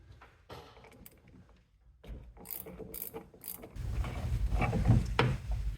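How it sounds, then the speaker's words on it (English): An 8mm socket on a ratchet loosens the battery terminals of a 1994 Chevy K1500: quiet clicking ratchet strokes close by, then louder metallic working noise toward the end, with no talk. "So all we need to take those off is an 8mm socket. I'm going to disconnect the negative terminal first,"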